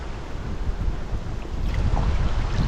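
Strong wind buffets the microphone over choppy water from a small fishing boat, a loud rushing roar with low rumbling gusts that swell toward the end.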